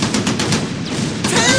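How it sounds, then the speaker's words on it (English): Gunfire and explosions from a World War II video game battle with a Panzer IV tank, as artillery is called in: a loud, dense barrage of rapid bursts and booms, close and continuous with no break. "Come on, bring in that artillery."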